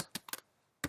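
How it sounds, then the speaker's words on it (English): Computer keyboard being typed on in short bursts of a few sharp, close key clicks separated by a brief pause, quiet with no talk. "I'm typing some caps and some small"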